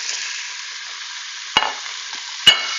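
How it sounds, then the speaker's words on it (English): Ground meat browns in a tablespoon of hot oil in an Instant Pot, giving a continuous loud sizzle broken twice by sharp clanks of stirring. "You can hear it sizzling,"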